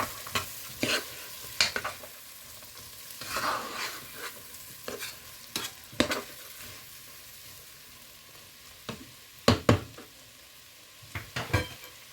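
Chopped onions with turmeric powder stirred and fried in a pan for a Sri Lankan Tamil squid dish, a steady low sizzle broken by repeated sharp scrapes and knocks of the spoon against the pan, close and alone.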